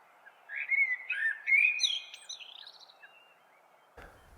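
A common blackbird sings a short, fluting, mellow phrase that rises into higher twittering notes and then fades. The song is clear and fairly close against a quiet background, and a faint knock follows it.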